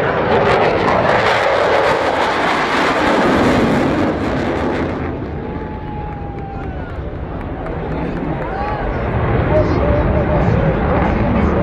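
Airplane flying over the AFA Domingo Aéreo air show in Brazil, its loud engine roar swelling past then easing, with a crowd murmuring and voices talking underneath throughout.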